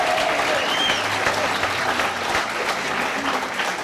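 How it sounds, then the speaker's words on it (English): An audience at a Surfing Walk of Fame inductee ceremony in Huntington Beach applauds. Sustained outdoor clapping from a crowd runs evenly for a few seconds, with faint voices and crowd murmur underneath. "Let's give a little round of applause for them."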